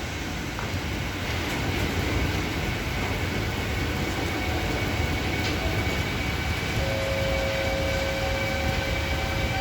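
A Trenitalia regional train rumbles steadily nearby as it arrives at a station platform, broad low-frequency noise, and a faint squeal of brakes rises near the end as it slows.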